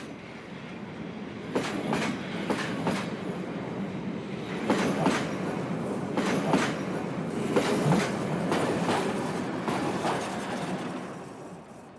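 A train passes along a railway line through Žižkov, a working-class district of Prague, with a steady rumble and repeated clickety-clack bursts of wheels over rail joints that fade at the end.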